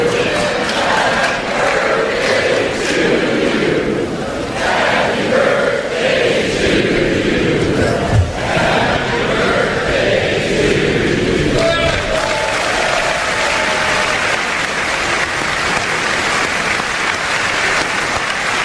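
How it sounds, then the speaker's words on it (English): A large crowd at the 2019 State of the Union address sings Happy Birthday in a hall, a dense, sustained wash of many voices with applause and cheering running throughout. "Crowd sings "Happy Birthday.""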